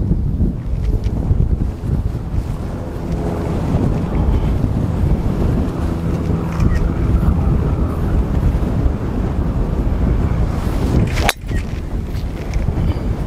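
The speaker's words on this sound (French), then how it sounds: "ce vent de face" Strong, steady headwind on a golf course at Golf de Granville buffets the microphone in a continuous roar, with a brief sharp gust-like dropout near the end.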